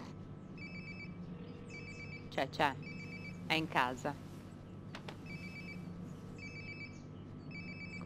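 A phone ringing nearby in the video game Life is Strange: Before the Storm, repeated rhythmic electronic ring bursts under Italian speech from a player and game characters.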